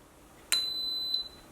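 An Instant Pot Nova 6-quart pressure cooker gives a single clear electronic beep as it starts. The tone is steady and lasts under a second after a sharp onset, against quiet room hush.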